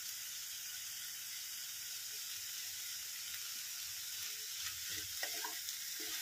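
Vegetables fry and sizzle steadily in a pan with turmeric added, a continuous close hiss broken near the end by a few scraping stirs.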